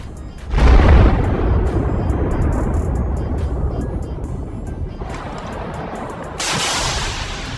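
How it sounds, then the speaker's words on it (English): A Kornet missile explosion hitting a Bradley armored vehicle in wartime, a heavy boom followed by a long, loud rumbling roar that slowly fades, then swells slightly again near the end. "A second Cornet hit stops the APC"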